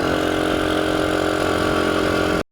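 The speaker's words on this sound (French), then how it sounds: "Niveau moteur, on est sur un SkyTeam 125 d'origine, qui a 2500 km, il tourne comme une horloge." An original SkyTeam 125 engine with 2500 km on it, fitted to a restored Dax 125 motorbike with a 22 mm Mikuni carburettor, idles in a steady, close, loud putter that cuts off abruptly at the very end.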